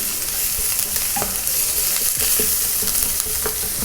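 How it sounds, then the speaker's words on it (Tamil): Onion sizzles and sautés in a hot pan as it is stirred for a quesadilla filling, a steady close frying hiss broken by occasional scraping stir strokes. "நல்லா லைட்டாக வதக்கிட்டு ஆனியன் நல்லா சாஃப்ட் ஆனதுக்கப்புறம்"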